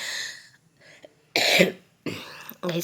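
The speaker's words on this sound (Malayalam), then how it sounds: "ചുമയാണ്" Several harsh coughs in separate bursts, close and loud, with short quiet gaps between them.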